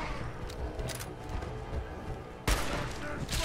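Gunshots in the Fallout 4 video game come as a few soft, muffled thuds, then one louder burst near the end, faint under a murmur of talk.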